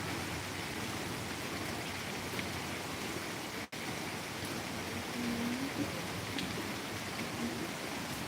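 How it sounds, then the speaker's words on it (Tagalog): Light rain falling steadily on a rural afternoon, a soft even hiss of drops throughout, with a faint brief tone partway through. "Mahina ulan."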